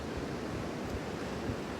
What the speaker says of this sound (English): I took a nice ride over to the beach to get a little bit of the sounds of the ocean